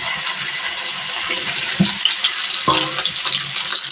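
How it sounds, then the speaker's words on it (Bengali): Hilsa fish roe fries in hot oil in a frying pan, giving a loud, continuous hiss and crackle with a few pops and no voices. "এখন ডিমগুলো ভাজতে দিয়ে দেবো"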